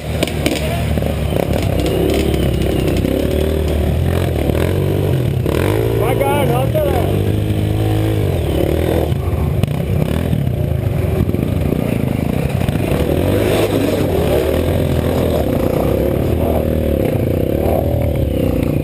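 Motorcycle engines idle and rumble steadily nearby, with occasional clatter and revving, while people talk over the noise.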